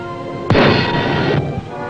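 A submarine fires a torpedo in a 1950s naval drama, a sudden loud whooshing blast that hisses on for about a second before cutting off, with no talking.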